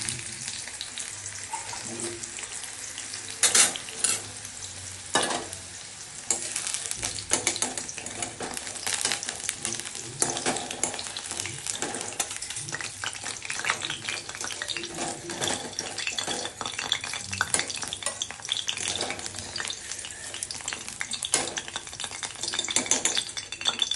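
Fish fries in oil for shorshe ilish, a continuous crackling sizzle with frequent pops and occasional louder spatters throughout, close and without speech.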